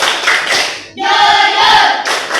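A class of pupils chants in unison while clapping in rhythm during a classroom clapping game, voices prominent with hand claps under them.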